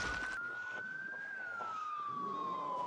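An emergency siren from a vehicle in the zombie survival game Project Zomboid gives a single steady wailing tone that rises and falls slowly, faint and continuous with no talk over it.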